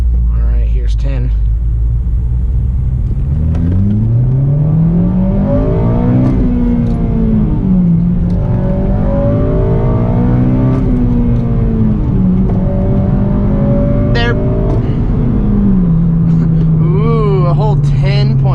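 Honda Civic Si tuned with a Hondata Flashpro accelerating hard from first gear: loud, close engine roar climbs in rising sweeps through several gear changes over heavy road rumble, with voices talking over it inside the car.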